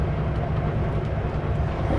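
The Rocky Mountaineer train rolls past as a steady low rumble with broadband rail noise, moderately loud and continuous for a couple of seconds with no talk.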